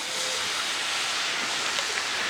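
Whiskey poured into a hot pan of onions for a Rip Wheeler hamburger, a steady loud broadband sizzle and hiss throughout, close and unbroken, no talking.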